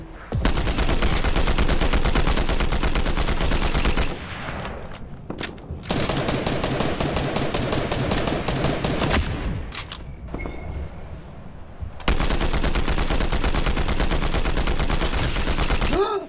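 Rapid automatic gunfire from a new weapon in the Fortnite video game, loud dense bursts from 0 to 4 seconds and again from 12 seconds on, with quieter in-game shots and effects between.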